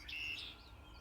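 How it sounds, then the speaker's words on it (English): Red-winged blackbird calls from cattails near a pond with cedar and oak trees, a single bright chirping phrase standing out over a low outdoor background hum. "these red-winged blackbirds that just signaled to us"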